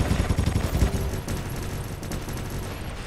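Enemy robots in the mech combat game War Robots fire a dense, continuous volley of machine-gun bursts, loud and rapid at first and then settling into a steady, slightly thinner barrage throughout.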